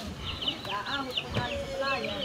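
Pet chickens cluck and chatter nearby in a quick, uneven series of calls, with people talking in the background.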